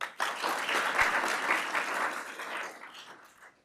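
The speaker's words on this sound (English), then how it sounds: "Okay, activate applause, turn down." Conference crowd at a DevOpsDays live podcast session gives a round of applause that swells quickly, holds steady, then fades toward the end, many hands clapping at once with no talking.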